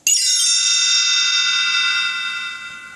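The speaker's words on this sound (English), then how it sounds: "You will know it is time to turn the page when you hear a chime like this" A single bright bell-like chime marks a page turn in a Winnie the Pooh read-along storybook, struck once loud and close, then ringing and slowly fading for about three seconds.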